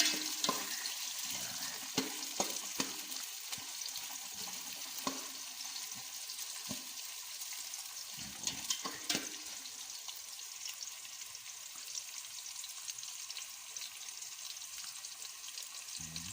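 Onion and garlic sauté in cooking oil, a continuous close, crackling hiss with occasional clinks and stirring scrapes, the sizzle steady throughout with no voices.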